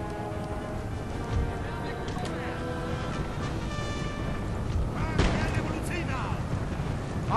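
Cannon artillery booms in a Napoleon: Total War battle, with dull thuds and bursts of gunfire scattered over dense continuous battlefield noise and a rumbling roar.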